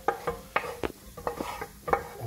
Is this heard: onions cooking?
yes